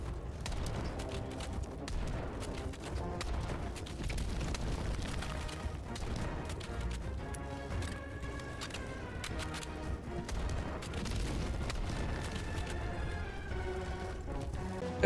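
The Eruptor weapon in Helldivers 2 fires repeatedly at a cannon turret from the front. Heavy booming shots and impacts recur through a dense, chaotic battle din at moderate loudness.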